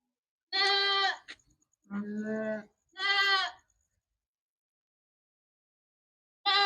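Sheep on a farm bleat loudly and nearby, with three distinct calls in the first few seconds, then silence, and another bleat at the very end.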